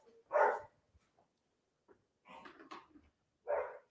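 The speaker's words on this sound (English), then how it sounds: "cut down the noise from the dogs" Several dogs barking in separate bursts, a loud close bark, then a cluster of mixed barks and a final loud bark, with quiet gaps between.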